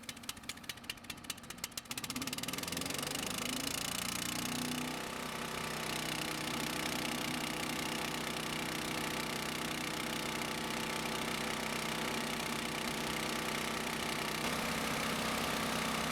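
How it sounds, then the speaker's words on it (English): Earthquake K32 chipper shredder engine, choke set to run and throttle high, starting with a few quick putters, then settling into a steady loud warming-up idle hum close by. "It started right up. Set the choke to run and throttle to high to let it warm a bit."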